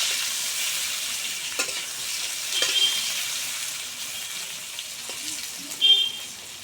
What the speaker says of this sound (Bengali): তেল গরম হয়ে গেছে কেটে রাখা বেগুনগুলো তেলের মধ্যে দিয়ে ভালো করে ভেজে নেব